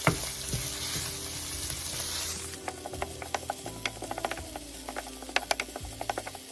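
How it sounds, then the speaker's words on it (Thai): Hot oil crackles and sizzles loudly as chili peppers fry, with scattered sharp pops and scraping stirring throughout. "กระทะร้อนใส่น้ำมันลงไปแล้วก็เอาพริกของเราลงไปผัดค่ะ"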